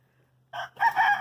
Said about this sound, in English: There's a good looking shot of my orange rooster, Jerry Lee Lewis.